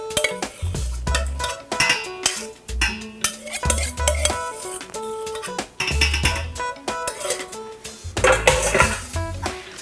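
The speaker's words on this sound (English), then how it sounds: "we just want to whisk this in" A whisk clinks and scrapes rhythmically against a bowl while pumpkin puree is beaten into a French toast batter, in a steady run of quick metallic taps with brief pauses.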